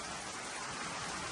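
Heavy typhoon rain in Bucana under storm signal number 3, a steady unbroken hiss of downpour filling the whole stretch, fairly soft and with no voices.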